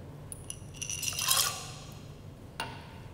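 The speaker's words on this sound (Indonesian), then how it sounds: "Masukkan es batu." Ice cubes drop into a cocktail shaker while a lime mocktail is being made, a brief cluster of clinks and rattles with one more clink soon after, close and fairly quiet.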